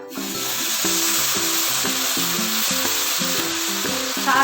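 Sugar syrup poured into roasting semolina for sooji halwa hisses and sizzles loudly and steadily up close, with a soft background melody running underneath.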